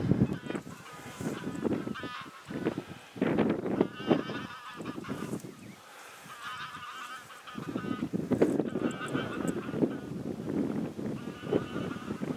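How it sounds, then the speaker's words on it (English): A goose flies in near a tall stone breakwater on a coastal hike in Wales, giving repeated loud, nasal honks in uneven bursts with short quiet gaps, close and clear over soft outdoor background. "Kind of goose flying in."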